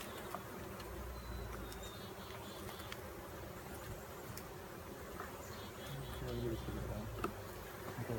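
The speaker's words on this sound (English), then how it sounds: "It's buzzing my head pretty good." Honey bees buzz steadily and loudly around a beekeeper during a summer hive inspection, the dense drone continuous throughout with occasional louder passes near the head and faint handling noises.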